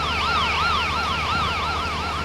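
A police car siren in a bus video game wails loud and steady in a rapid, repeating rising-and-falling pattern, with no talk over it.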